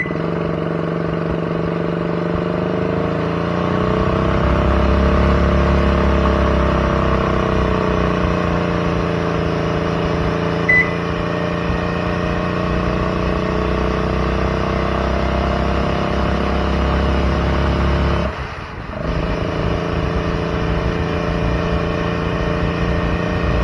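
A 1,400-pound go kart with a 15-horsepower cement mixer engine on a drag strip run, a steady, buzzing single-cylinder drone that strains and slowly climbs in pitch, then briefly cuts out near the end before resuming.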